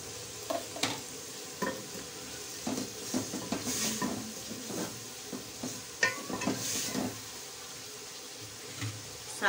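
Spices being stirred and fried in a pan, with a steady sizzle broken by repeated scraping strokes and clinks of the utensil, close and moderately loud, no talking.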